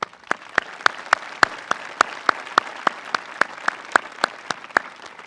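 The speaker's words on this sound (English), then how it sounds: "So round of applause for that." A graduation audience at Ludlow High School claps in sharp, distinct beats, loud and steady across the whole stretch, with no talking.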